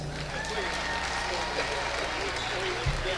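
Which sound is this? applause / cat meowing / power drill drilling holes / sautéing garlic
applause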